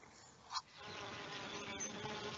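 Honeybees buzz in a dense, continuous drone, close and fairly quiet, with no voices over it.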